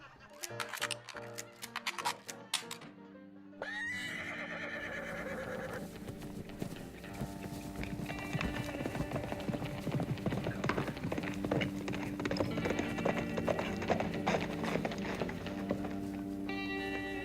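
Horses gallop in a Wild West setting with rapid clip-clop hoofbeats and a whinny, heard alongside music and a shouted cheer.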